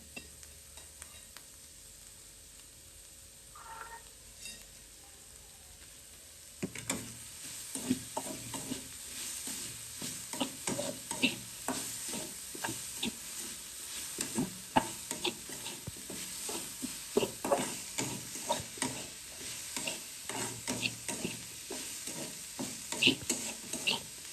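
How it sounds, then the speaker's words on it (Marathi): Grated bitter gourd frying in oil in a pan on a stove, first quiet, then a steady close sizzle broken by frequent scraping stirs that continue to the end. "आता थोडंसं तेल टाकते, म्हणजे तेलात अजून थोडंसं भाजून घ्यायचं"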